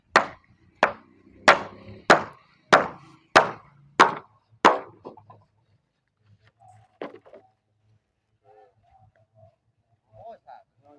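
Posts are hammered at a house construction site in a rapid run of about eight sharp, loud blows at an even pace. Faint voices and scattered small sounds follow in the quieter stretch afterward.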